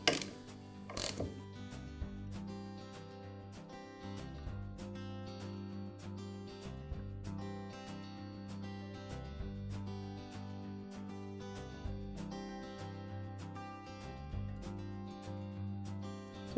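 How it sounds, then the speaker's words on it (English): A ratchet wrench with a 1/2-inch socket loosening bolts on a washer's counterbalance weight, giving a fast, even run of clicking pawl ticks over about sixteen seconds, close and fairly faint, with no talk. "So just with a ratchet wrench and a 1/2-inch socket."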